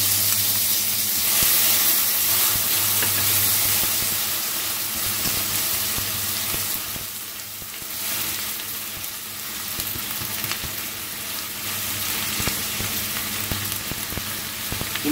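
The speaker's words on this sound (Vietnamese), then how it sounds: "Sau đó thì các bạn sẽ cho cái phần hành khô và để phi vàng lên" Dried shallots frying in hot oil until golden for Vietnamese braised pork ribs, a dense, continuous close-up sizzle with some stirring that holds steady throughout and has no talking.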